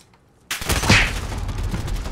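Gunfire in Call of Duty Modern Warfare multiplayer: after half a second of near silence, a sudden loud burst of rapid shots erupts and continues as dense, sustained firing.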